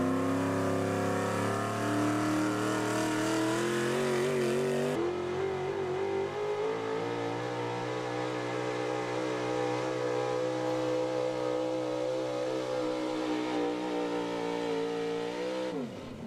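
A pulling truck's engine roars steadily at full throttle during a truck pull at a mechanic shop, loud and continuous for over fifteen seconds, pitch climbing early then holding high before easing off at the very end.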